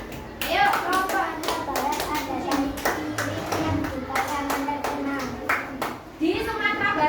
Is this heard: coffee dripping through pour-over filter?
no